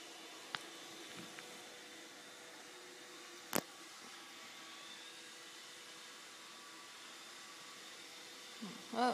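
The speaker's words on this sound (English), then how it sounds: "Where's the vacuum, Noah?" A robot vacuum cleaner hums steadily at low level in a room, a faint continuous whir broken by a couple of sharp knocks and a brief voice near the end.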